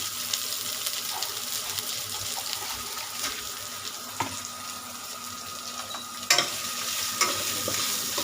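Bay leaf, dried red chillies and onion fry in refined oil in a pan, giving a continuous close sizzle with intermittent scraping stirs and a couple of sharper clanks near the end, no talking.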